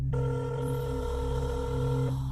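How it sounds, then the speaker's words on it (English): A telephone rings in one long, steady tone that holds for about two seconds before cutting off, sitting over a constant low hum. "As the phone rang"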